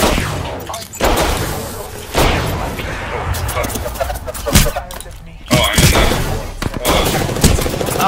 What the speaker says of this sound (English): Oh, they one-tapped me with a shotgun.